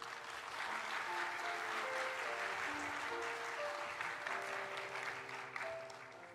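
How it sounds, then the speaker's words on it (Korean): A church congregation gives loud, sustained applause to welcome a visiting pastor at a Sunday service, while soft organ or keyboard notes play underneath. "목사님 나오실 때 큰 박수로 환영해 주시길 바랍니다"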